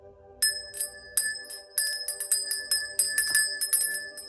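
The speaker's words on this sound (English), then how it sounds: "I'm going to go ahead and ring the bell to get this reading started." A small bell rung repeatedly to open a tarot reading, with bright ringing strikes every half second or so that overlap and shimmer close to the mic, moderately loud, with no talk.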